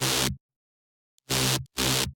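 Three heavily distorted, buzzing electronic bass bursts from a dance music drop, loud and dense with noisy saturation, cut by abrupt silences between hits.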